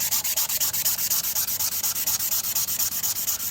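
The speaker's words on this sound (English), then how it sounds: "everything else I'm just gonna sand it off just with some 220 grit sandpaper" Sandpaper of 220 grit is rubbed across the coated steel blade of an ESEE 6 knife on a sanding block, giving rapid, even back-and-forth scratchy strokes, close and steady.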